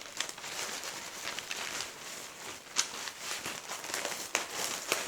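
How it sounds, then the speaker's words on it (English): Brown wrapping paper crinkling and rustling as it is folded up around a small gift bouquet, a steady close crackle with sharper crisp snaps here and there and no talking. "and then I'm going to bring the brown paper up"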